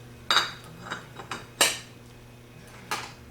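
Metal lid fitted onto a vintage Chrysler starter during a rebuild: a handful of sharp, close metallic clinks and taps spaced irregularly over a quiet workshop background, no talking.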